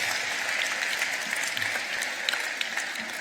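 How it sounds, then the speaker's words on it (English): A graduation ceremony crowd gives a standing ovation, dense sustained applause from a large audience filling the hall evenly with a steady roar of clapping and no voices over it. "Give them a standing ovation now"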